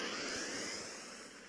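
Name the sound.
spaceship warp engine starting in Second Galaxy video game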